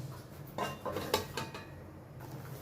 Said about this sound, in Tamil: மூடி போட்டுக்கலாங்க